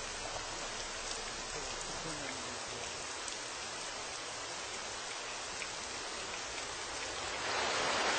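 Steady rain falling outdoors over a heron colony in Goyang, a dense even hiss throughout that swells slightly louder near the end, with no voices.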